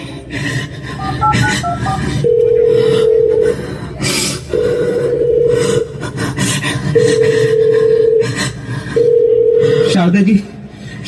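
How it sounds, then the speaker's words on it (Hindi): A telephone is dialed with a quick run of short keypad tones, then a steady ringback tone repeats in four long pulses with short gaps, heard over background voices and noise at a community annual celebration. "मेरे बेटे को फोन मिलाइए।"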